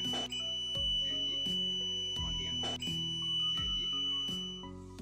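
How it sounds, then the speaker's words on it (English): A ZW5110 DC resistance tester beeps after a 10A test as it starts discharging: a steady high electronic tone with repeated pulsing beeps, loud and close, with no talk. "the instrument will beep and start discharging automatically"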